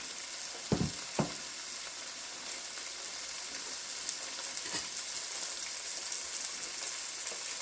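Half an onion sizzling in a frying pan for chicken Alfredo pasta, a steady soft crackling hiss with a couple of sharp knocks near the start, moderately quiet and alone.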